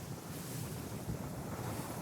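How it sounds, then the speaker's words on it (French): Strong wind and rough sea waves roar aboard a sailing boat, a dense, steady rush of gusts and breaking water close to the microphone with no voices. "Beaucoup de vent, beaucoup de mer."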